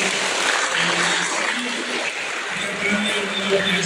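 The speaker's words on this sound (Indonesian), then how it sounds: "Kita beri tepuk tangan." A hall audience at a talk show claps together, a dense, fairly loud rush of applause that holds steady throughout, with faint voices underneath.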